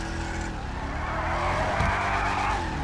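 Cars in a GTA 5 tug of war skid and squeal their tires against each other, loud sustained screeching over revving engines, swelling louder partway through.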